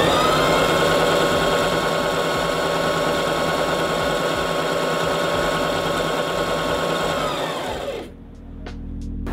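A Brother JV1400 portable sewing machine runs with a smooth, steady motor whir and needle chatter at an even loud level for about eight seconds, then stops, leaving near silence.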